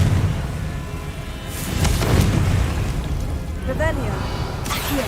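Booming Confringo blasting-spell explosions in Hogwarts Legacy, a loud burst swelling in the middle of the clip over a rumbling game backdrop, with shimmering magical chimes trailing near the end.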